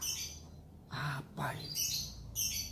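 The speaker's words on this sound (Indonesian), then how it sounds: "Burung berkicau, berbunyi." Storytelling sound effect of birds chirping: short bright bursts of twittering at the start and again near the end, with a brief spoken question between them.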